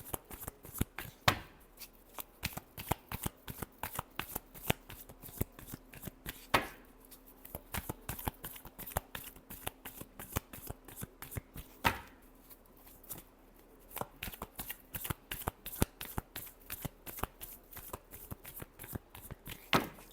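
Tarot cards are shuffled in long runs of rapid, crisp riffling clicks and slaps, close and fairly quiet, with brief pauses between bursts.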